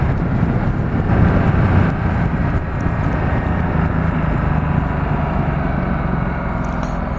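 A Ducati Multistrada 1260 S motorcycle engine holds steady at 3500 rpm on a ride, a loud continuous low rumble with heavy wind noise.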